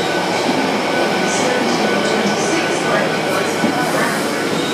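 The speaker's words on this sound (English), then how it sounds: "This, by the way, is what they call the Poppy Train." The Poppy Remembrance Train passes through Cardiff Central station in a loud, continuous rumble of rolling wheels and rail noise, with faint squeals, filling the whole stretch.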